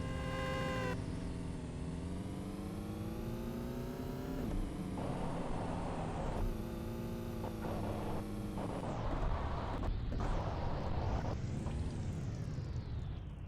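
Car engine in the video game Payback 2, revving up in rising harmonic sweeps that drop with each gear shift and then climb again. Loud and continuous with no voices.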